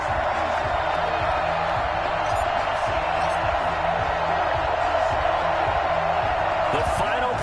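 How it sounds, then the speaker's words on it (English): A stadium crowd roars in Madden NFL 21 before a Titans versus Bills game, a dense continuous wash of noise beneath a commentator's steady talk. "this crowd is ready as their guys get set to match up between the Buffalo Bills"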